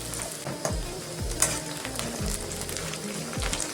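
Chopped onions fry in ghee with a busy, continuous sizzle and crackle, close and moderately loud. Repeated scraping strokes from stirring run through it, and no voices are heard.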